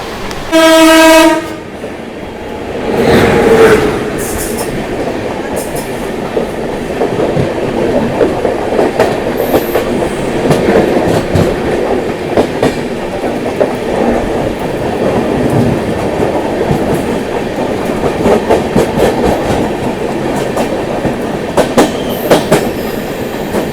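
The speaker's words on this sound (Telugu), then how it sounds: "సో ఇప్పుడు మనకు ఆపోజిట్లో రాబోతుంది మన pairing train 12622 New Delhi MGR Chennai central Tamil Nadu super fast express అనమాట" The 12622 New Delhi–MGR Chennai Central Tamil Nadu Superfast Express passes close by, opening with a short loud horn blast, then a long steady rush and clatter of coaches rolling past on the rails.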